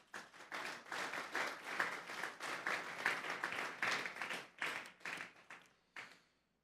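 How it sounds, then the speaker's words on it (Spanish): Church congregation breaks into loud, sustained applause praising God, a dense wash of many hands clapping for several seconds before tapering off into quiet. "Denle un fuerte aplauso pues al Señor."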